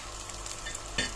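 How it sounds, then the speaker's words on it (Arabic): Onions sizzle and get stirred in a hot pan with smoked paprika, coriander, cardamom and meat spices, a steady close frying hiss with a brief louder scrape of stirring near the end. "زي ما انتم شايفين كده بيلون لي البصل. هبتدي اشوحه"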